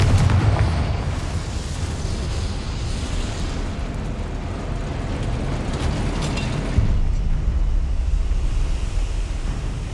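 Loud, dense rumbling blast noise from a Confringo fire spell in the video game Hogwarts Legacy, with a broad roaring burst that stays heavy for the full length and swells again near the end.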